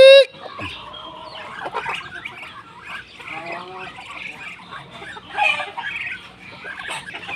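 A turkey and chickens cluck and call in a farmyard, a loud call at the start followed by scattered clucks and chatter mixed with people talking nearby.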